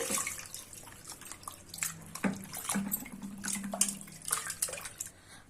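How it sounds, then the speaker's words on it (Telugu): Mutton pieces are washed in water a second time, with sloshing, splashing and dripping at close range in irregular bursts, fairly quiet and with no talk. "ఇప్పుడు సెకండ్ టైం వాష్ చేసుకోండి."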